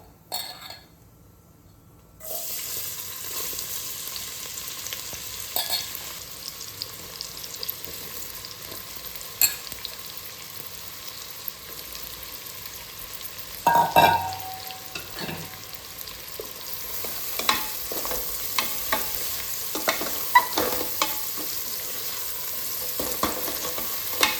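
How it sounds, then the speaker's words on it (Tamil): Onions sautéing in hot oil with cinnamon and cloves for hotel-style tomato rice: a continuous soft sizzle with occasional spoon clinks and stirring taps against the pan, heard alone without speech. "பொன்னிறமாக வர வரையும் நல்லா வதக்கிக்கிடுங்க"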